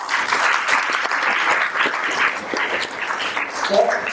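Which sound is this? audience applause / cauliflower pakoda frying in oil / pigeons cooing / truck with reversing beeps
audience applause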